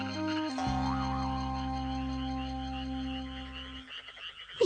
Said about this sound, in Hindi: ये तो मेंढक की आवाज थी।